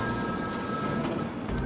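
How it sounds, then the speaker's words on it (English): A telephone rings in the Batman: Arkham City video game as a steady electronic trill, held continuously under dense game noise and background hiss. "There's a phone ringing somewhere."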